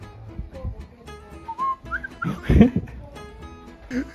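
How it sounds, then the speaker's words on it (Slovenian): Short whistled notes from a person in a furniture showroom, a few rising and falling tones over a busy background with some voices and noise. "Daj mi še enkrat zažvižgi!"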